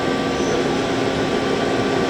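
Doosan Lynx 300 CNC turning center spindle running at 500 RPM, a steady, loud broadband machine whir and hum that holds constant throughout with no talk.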